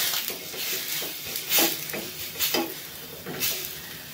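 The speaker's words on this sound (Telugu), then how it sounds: "ఇప్పుడు ఒకసారి మళ్ళీ కలుపుకుందాం." A spoon stirs sago in a pot of boiling milk, giving a few scraping, swishing strokes in uneven bursts over a steady bubbling simmer, close and moderately loud.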